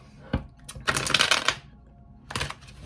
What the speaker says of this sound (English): You're not shuffling properly.